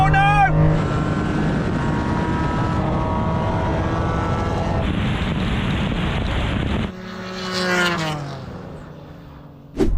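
A Nissan Skyline R34 and an NSX race at a JDM car event, loud engines roaring and revving past at close range with rising and falling pitch, then a sudden drop before another surge, with voices and wind buffeting mixed in.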